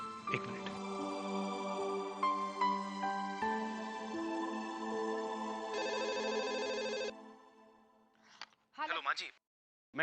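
A telephone rings during a domestic drama scene with a sustained electronic tonal ringtone for about seven seconds, then cuts off, followed by faint handling clicks and brief rustles.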